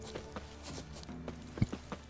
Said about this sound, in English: Sounds a bit like a horse.